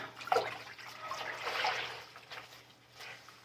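Water runs and splashes in a bathroom sink while a compression sock is rinsed, a soft uneven trickle that swells and fades, close and quiet.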